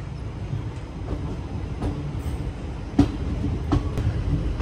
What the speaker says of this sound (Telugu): లోకోమోటివ్ 24 పెట్టెల్ని పుల్ చేస్తుంది